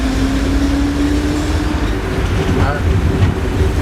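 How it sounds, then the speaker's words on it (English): A diesel train leaving Sheringham station on the Poppy Line rumbles steadily with a low engine drone and a sustained hum, continuous and close, with faint clanks as it gets under way. "I'm just leaving Sheringham station on a diesel train. You can probably hear it."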